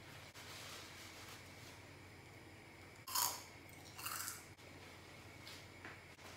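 Crunchy bites of homemade Taco Bell-style cinnamon twists, fried and sugared, as one person chews; two short crisp crunches stand out near and fairly loud over a low room hiss, with no talking.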